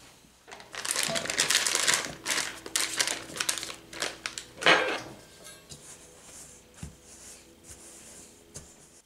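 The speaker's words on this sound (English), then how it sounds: "Let's go ahead and cut the butter in." Butter being cut into a bowl of sugar, nutmeg and cinnamon for an apple slab pie topping, heard as close, busy scraping, crumbling and clinking of a utensil against the bowl in irregular bursts that thin out toward the end.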